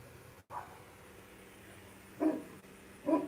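A dog called Big Dog barks in the distance: a faint woof early on, then two louder single barks near the end over quiet room hum.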